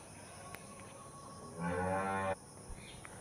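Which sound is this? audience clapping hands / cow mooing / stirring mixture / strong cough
cow mooing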